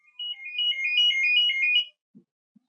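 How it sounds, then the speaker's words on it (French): A mobile phone ringtone plays a bright, steady melodic phrase for nearly two seconds, fairly close and clear, then stops, followed by two soft low knocks. "c'est le téléphone qui sonne"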